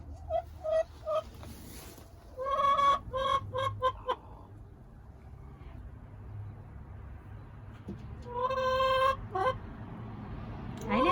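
Backyard hens clucking in short bursts, a few close cackles and clucks separated by quiet stretches, with low background hum and no talk.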